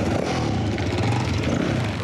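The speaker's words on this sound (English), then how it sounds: "the roar of bikes fills the air at the Marshalls." Several motorbikes roar continuously at close range, a dense, loud engine rumble with rough revving and no pauses.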